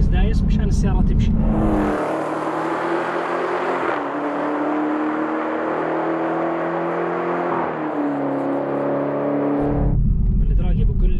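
A Dodge Challenger Hellcat pulls away under gentle, partial throttle, its engine note rising smoothly through a couple of gear changes in a loud, close, sustained drone before dropping off, with no one talking over it.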